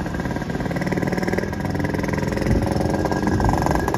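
A motorcycle engine runs nearby with a continuous throbbing drone, rising slightly as it revs partway through.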